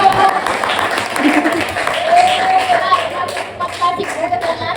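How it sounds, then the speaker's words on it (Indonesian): A class of students claps by hand in a loose, scattered burst in a classroom, with a teacher's voice talking over it and the clapping thinning out toward the end. "tepuk tangan dulu dong"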